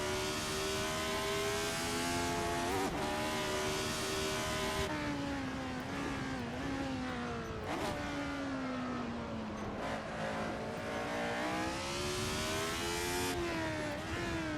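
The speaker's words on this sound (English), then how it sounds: "Car breaking down to second, car not happy, wants to swipe a little bit." A race car on the Circuit Clermont-Ferrand track, engine droning loudly and steadily with pitch sweeping up and down as it downshifts into second gear, heard close from onboard with no talking.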